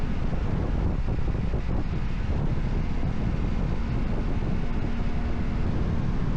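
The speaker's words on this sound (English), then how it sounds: "Jeez, it's windy. It's so windy" Strong wind in Far West Texas roars steadily across the microphone during a motorcycle ride, a constant low rumbling buffet with no pauses.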